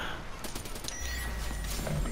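Rapid video game gunfire crackles in a short burst of sharp shots, faint and fairly distant over a low steady rumble.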